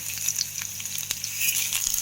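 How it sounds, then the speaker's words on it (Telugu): Crushed garlic cloves dropped into hot oil give a steady, soft sizzle and crackle, fairly quiet and continuous with a few brief pops, no voices over it. "ఇందులో ఇలా వెల్లుల్లి రెబ్బలు ఒక 5-6 తీసుకొని వాటిని చితక కొట్టుకొని ఇందులో వేసుకోవాలి"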